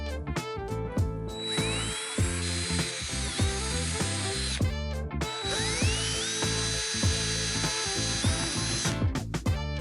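A power drill boring holes for wiring in a wooden model house, with two long whining drill runs that rise and hold in pitch, plus short motor bursts between them, loud and close with no talk.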